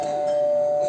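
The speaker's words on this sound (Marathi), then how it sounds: "दिसता बेल मारल्या" An electric doorbell buzzes during a Konkani comedy stage play, a single steady tone held without a break through the whole second, fairly loud and close, with no talking over it.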